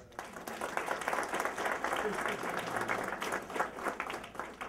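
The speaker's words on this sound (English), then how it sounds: "So for every kid in the audience, please give a round of applause." Comedy club audience at the Tempe Improv breaks into applause, a dense, steady wash of many hands clapping from a room full of people, moderately loud and continuous throughout.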